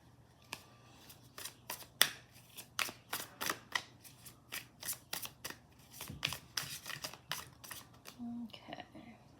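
Tarot cards being shuffled in a series of quick papery riffles and flicks, close and fairly soft, with brief pauses between bursts and a faint low hum in the room.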